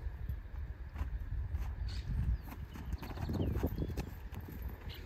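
A chestnut horse walks on an open field, its hooves clip-clopping in an uneven rhythm, close and fairly loud over a windy, rustling background.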